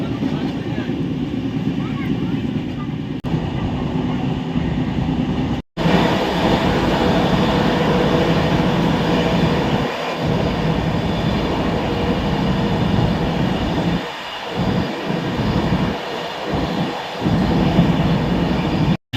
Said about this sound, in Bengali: এখন ট্রেন ঢুকছে হচ্ছে প্রয়াগরাজ চিওকি জংশনে